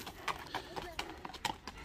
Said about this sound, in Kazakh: Мына туугандар, күрөң ат бастырып кетер.